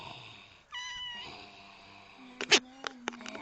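A cat meows in a couple of drawn-out, wavering calls, followed by some short sharp sounds and a lower sustained tone, close and fairly quiet.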